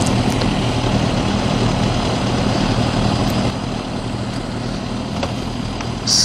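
Many motorcycle engines idling together at a bike event at Suzuka Circuit, a dense, loud, continuous low rumble with no talking over it, easing slightly partway through.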